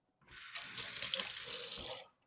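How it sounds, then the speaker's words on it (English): Water runs steadily from a kitchen tap for about two seconds as hands are rinsed, a close, even hiss that starts and stops abruptly. "I'm gonna rinse my hands"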